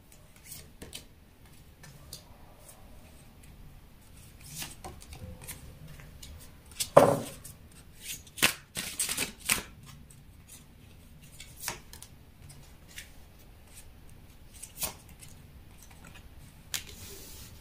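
Tarot cards being drawn and handled close up: soft papery rustles and light taps scattered through a quiet stretch, with a brief louder shuffle near the middle and no speech.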